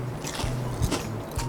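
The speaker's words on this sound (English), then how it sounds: "I can hear the crunchy sound." Crisp crunching bites into a crispy Korean pancake close to the microphone, several short crackly bursts spaced through the moment, with no talking.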